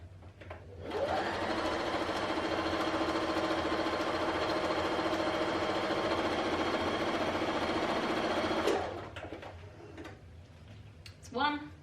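A sewing machine stitches an oven mitt's binding from end to end in one steady, continuous run of about eight seconds, close and even, then stops, followed by a few faint handling sounds.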